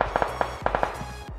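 Gunfire in the PUBG Lightspeed mobile game: a rapid volley of sharp shots in uneven bursts, fairly close and loud, with no talk over it.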